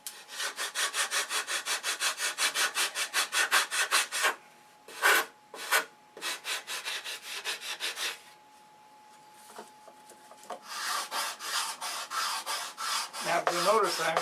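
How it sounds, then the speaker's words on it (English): Rhythmic back-and-forth strokes of 80-grit sandpaper rubbing a wooden model aircraft fuselage, steady close rasping in several bursts separated by brief pauses. "No, it's gonna sand with 80."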